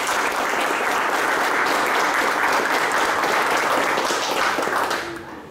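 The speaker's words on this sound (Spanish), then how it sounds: "pide un aplauso enorme" Enthusiastic audience applause at a business expo event, a dense, loud wash of clapping lasting several seconds before tapering off.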